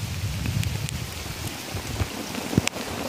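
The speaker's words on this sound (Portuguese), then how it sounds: "Chovendo demais." Steady heavy rain pours down in a dense, continuous hiss during a fishing trip, with a few sharper drops and splashes standing out near the end.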